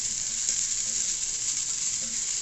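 Spinach greens frying with onion in a pan, a steady, loud, even sizzle with faint stirring underneath, continuous throughout and without any talking.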